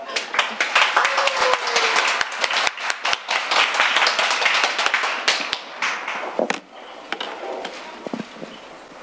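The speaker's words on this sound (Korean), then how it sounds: "이보라 교수님을 큰 박수로 맞이해 주시기 바랍니다" An audience at a special lecture claps to welcome a university education professor to the stage, with sharp, close hand claps that fade out and give way to scattered taps and room noise.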